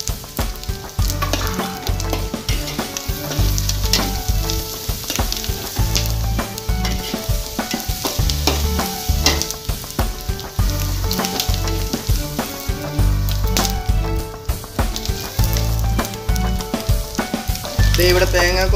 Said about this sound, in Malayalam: അതിനേക്ക് നമ്മൾക്ക് ഇഞ്ചി വെളുത്തുള്ളി എല്ലാത്തിൻ്റെയും കൂടെ പേസ്റ്റ് ഇടുകയാണ് വൺ ബൈ വൺ ആയിട്ട്